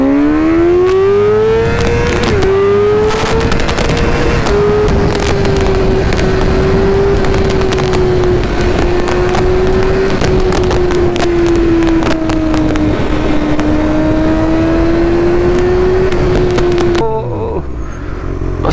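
A Kawasaki ZX-6R with a newly fitted aftermarket exhaust revs loudly and steadily, its high-pitched engine note rising and falling through sustained throttle before cutting off near the end, with no talking.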